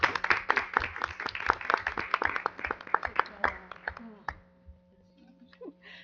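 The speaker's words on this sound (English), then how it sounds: "Let's give him a round of applause." Audience members at a Hamilton, New Jersey council meeting clap in a modest, fairly distant round that thins out and stops after about four seconds, leaving a low room hum, with speech nearby.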